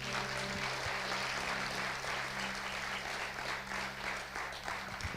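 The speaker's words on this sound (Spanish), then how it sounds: "Dale un fuerte aplauso a Dios." Church congregation applauding, a dense, steady wash of clapping from a large crowd that holds at an even level, with music tones humming underneath.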